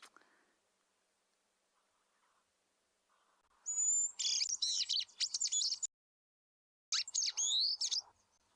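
Recorded call of a shaft-tailed whydah: after a quiet stretch with faint murmuring, two bursts of high, fast chirping and scratchy twitters ring out, separated by a second of silence.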